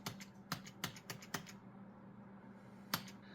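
Keys on a computer keyboard are struck during PC repair on an AMD Ryzen build, about five distinct taps in an irregular rhythm at close range and moderate volume, then a gap and one final press.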